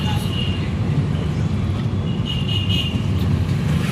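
A Maruti Ertiga car driving on the road, with a steady low engine and tyre rumble throughout and some faint higher whine at moments, heard from inside the moving vehicle.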